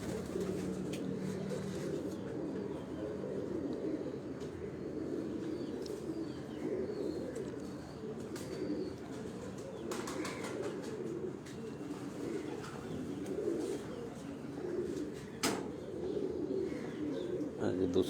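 Pigeons cooing on a rooftop in Gujrat, a soft low murmur running steadily throughout with a few faint chirps, while people talk quietly in the background.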